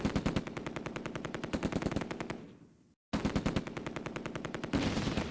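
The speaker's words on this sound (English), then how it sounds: "The Sherman opens up with its main gun and 30 caliber machine gun." In a World War II tactical video game, a Sherman tank's .30 caliber machine gun rattles off rapid sustained bursts alongside main gun fire, cutting out briefly to silence mid-clip before resuming loud and close.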